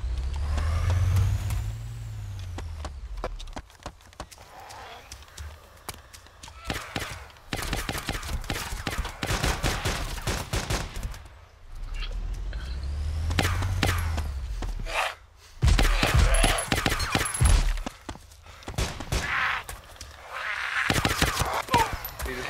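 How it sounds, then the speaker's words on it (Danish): Gunshots and machine-gun fire in the video game DayZ, sharp scattered bursts crackling over a low rumbling vehicle engine, with voices talking at times. "Der er skud. Der er nogen, der skyder."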